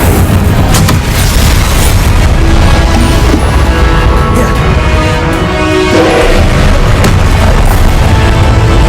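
Continuous rumbling blasts from the Confringo blasting spell in the video game Hogwarts Legacy, loud and dense with overlapping booms and crashes throughout, no talking.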